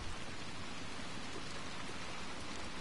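Steady rain falls in the video game Little Nightmares 2, a dense, even hiss of drops that stays loud and continuous throughout with no other sounds breaking through.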